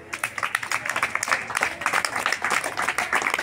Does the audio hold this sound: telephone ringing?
no